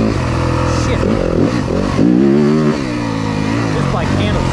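A 2023 Yamaha 250FX dirt bike engine while riding on tight trail terrain, loud and steady up close, its pitch rising and falling with throttle as the rider shifts and revs, with a voice talking over it.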